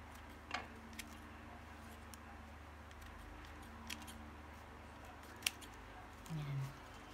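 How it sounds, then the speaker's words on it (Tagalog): Kitchen scissors snip lumpia wrappers into pieces, a few sharp, isolated cuts spaced apart over quiet room background. "Gumamit na lang din ako ng gunting para mabilis."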